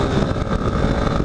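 Yamaha Lander motorcycle engine running at high speed in fourth gear, a continuous loud drone with rushing wind noise and no break.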